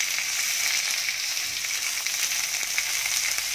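Roughly chopped tomato sizzles steadily in a hot kadai over a medium flame while kadai paneer is being made, a continuous crackling hiss with no voices.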